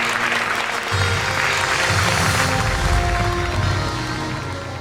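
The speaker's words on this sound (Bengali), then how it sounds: "আমরা ঋতুপর্ণা চাকমাকে উদ্দেশ্য করে একটা জোরে করতালি দেই" An award-ceremony audience applauds loudly for Rituparna Chakma at the Radhuni Kirtimoti Sommanona 2025 event, a dense, sustained wash of clapping that fades slightly toward the end.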